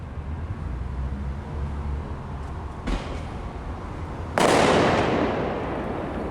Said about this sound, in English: There's just fireworks.